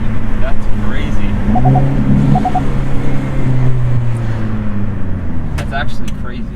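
Hyundai Elantra N car revving hard in a launch test, a steady loud engine rumble with rising tones, voices talking over it throughout.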